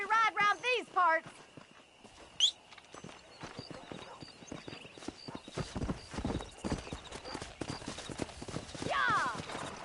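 Horse hooves in the Western game Red Dead Redemption, a steady rhythmic clip-clop that builds toward a gallop, with a whinny near the end. Someone speaks briefly at the start.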